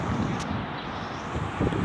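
Steady wind buffets an outdoor microphone beside a river during a fishing session, a continuous broadband rush with brief gusty peaks and no talking.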